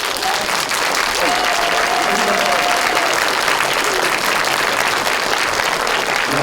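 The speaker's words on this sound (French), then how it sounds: "Je vous demande d'applaudir très fort Monsieur Pascal Elbé." A cinema audience at CGR Beauvais applauds actor-director Pascal Elbé, a dense, even roar of many hands clapping throughout, loud and sustained with a little crowd murmur beneath.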